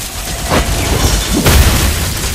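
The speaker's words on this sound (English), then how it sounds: "Your team destroyed a turret!" A turret is destroyed in the Mobile Legends: Bang Bang video game, with loud, close booming explosion bursts and rumbling impacts layered over busy game effects.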